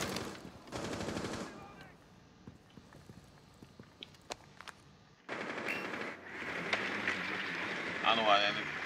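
Rainbow Six Siege gunfire, a burst of rapid shots followed by scattered single cracks and footsteps, then heavier sustained firing, with someone talking over parts of it.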